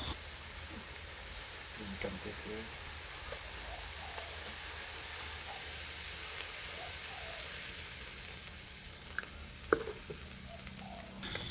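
Faint, steady sizzling and bubbling of red curry paste simmering in coconut milk in a pan, soft and continuous with a few small clicks.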